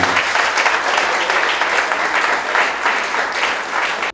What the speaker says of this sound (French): Je vous demande encore l'applaudissement.